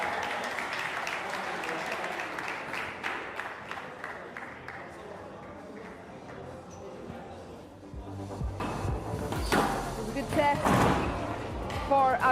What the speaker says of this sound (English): Fans, give it up for Abdulla Al-Tamimi